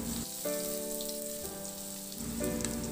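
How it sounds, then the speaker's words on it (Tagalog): Garlic sautés in hot oil in a pan with a steady, close sizzle and crackle, while a faint tonal hum rises and falls in the background and no one talks. "maglagay ng mantika sa kawali at igisa yung bawang"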